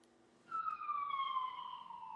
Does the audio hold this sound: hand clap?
no